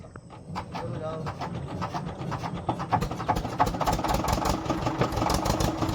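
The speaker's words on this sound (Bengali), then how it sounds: "তো ফাইনালি নৌকা স্টার্ট হয়ে গেছে" A fishing boat's engine on the Matla river on a rainy day turns over and settles into a steady idle, its rapid regular knocking growing louder while a voice talks underneath.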